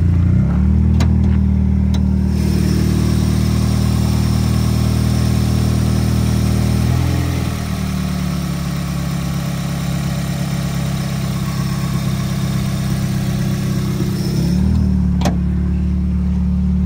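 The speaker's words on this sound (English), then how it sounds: "We have a 2001 Toyota Corolla. It's an automatic four cylinder." A 2001 Toyota Corolla SE with an automatic four-cylinder engine idles steadily under the hood, a close, even low hum throughout with a slight dip in pitch midway and no talking.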